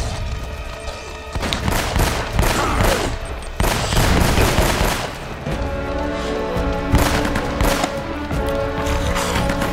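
Sustained gunfire in Uncharted: Drake's Fortune, a dense fusillade of automatic bursts and booming shots, loud and continuous throughout.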